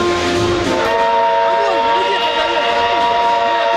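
A retro steam train called Pobeda pulls in with a loud, sustained whistle that holds steady over the rumble of the arriving cars. A voice talks over it at points.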